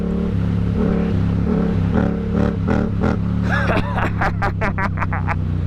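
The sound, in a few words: Yamaha MT-07 motorcycle accelerating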